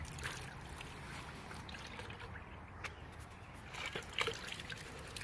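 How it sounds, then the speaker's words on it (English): A gold pan of concentrates is swirled in a water tub, giving continuous close sloshing and trickling with small splashes, steady throughout. "Go ahead and pan it right back in here into the tub again."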